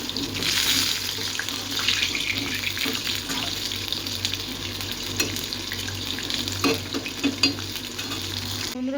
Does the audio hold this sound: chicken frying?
yes